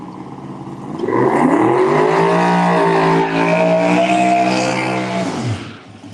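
A small-tire Mustang drag race car launches down the strip at Galot Motorsports Park, its engine roaring loud and close, climbing steadily in pitch for several seconds before dropping away.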